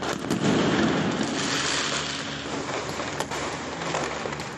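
Firecrackers on Kali Puja night fill the air with a dense crackling burst, loud at first and then settling into a sustained, rain-like rattle of small pops with occasional sharper cracks.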